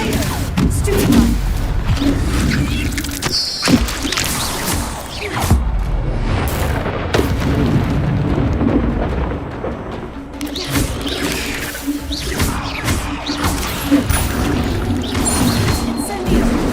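Stupefy spell effects in the video game Hogwarts Legacy: repeated crashing, whooshing magic blasts and impacts amid dense, busy game combat sound, continuing throughout the stretch with rises and dips in intensity.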